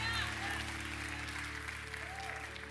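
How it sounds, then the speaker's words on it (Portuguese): Church congregation applauding at an Easter service, a steady wash of clapping that holds across the clip at moderate level while a voice and sustained tones carry faintly underneath. "uma salva de palmas para o Senhor."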